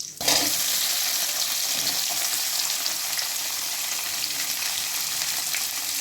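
Chopped onions hiss and crackle steadily in hot oil in a pan while cooking for a spicy onion chutney, with a sharp burst as they go in and a dense, constant sizzle close by throughout.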